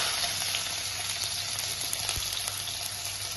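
Chopped onion sizzling in hot oil while making upma, a steady close frying hiss that fills the whole stretch with soft crackles and no voices.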